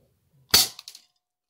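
An airsoft gun fires a single BB outdoors: one sharp, loud crack followed by a couple of brief fainter clicks, with no other sound around it.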